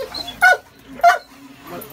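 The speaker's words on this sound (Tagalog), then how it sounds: "Doberman, guys." A Doberman gives two short, loud barks about half a second apart, close by, with faint sound in the pauses between them.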